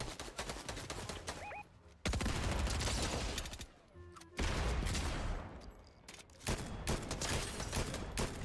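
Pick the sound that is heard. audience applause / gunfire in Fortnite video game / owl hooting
gunfire in Fortnite video game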